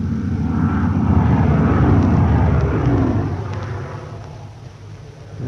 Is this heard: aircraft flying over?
yes